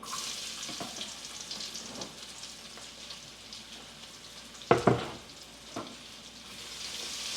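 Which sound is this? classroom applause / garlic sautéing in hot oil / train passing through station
garlic sautéing in hot oil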